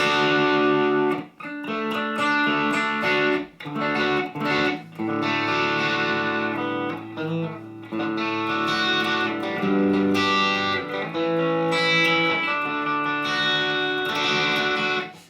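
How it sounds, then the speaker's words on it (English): Electric guitar played through a light overdrive pedal, a Boss BD-2 Blues Driver, strummed chords and picked notes with a gritty, crunchy edge and clear dynamics. "I have my BD2 on, Blues Driver. It's a nice, like, transparent sounding gain distortion."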